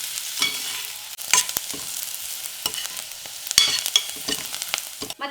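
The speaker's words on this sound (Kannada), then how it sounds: "ಒಂದು ಅರ್ಧ ಈರುಳ್ಳಿ ಇತ್ತಲ್ವ, ಅದನ್ನು ಒಗ್ಗರಣೆ ಹಾಕ್ತಾ ಇದ್ದೀನಿ." Half an onion fries in hot oil as a tempering base, giving a light sizzle broken by several sharp scraping and stirring clatters of a spoon against the pan.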